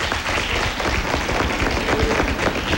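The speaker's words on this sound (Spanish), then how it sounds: "El aplauso para la segunda pareja," Audience applause for the second pair of contestants in a televised rap competition, a steady dense patter of many hands clapping throughout, fairly loud and unbroken, with no voices over it.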